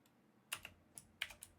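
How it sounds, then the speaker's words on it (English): Keystrokes on a computer keyboard come in short irregular bursts of clicks, fairly close but quiet, with no talking over them. "Yeah, get typing."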